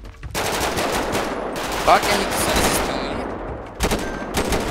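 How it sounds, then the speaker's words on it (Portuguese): Rapid automatic gunfire rattles in a GTA 5 roleplay shootout during a favela invasion, dense bursts filling most of the clip with a short pause near the end, while someone speaks over the shots. "Porra, deu tiro na gente!"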